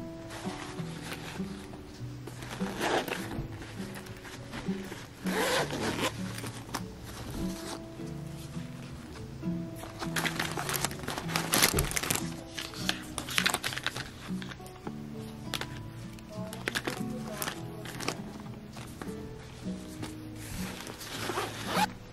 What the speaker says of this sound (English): the magical thing about this pencil case is that it opens up and expands into a much larger pencil case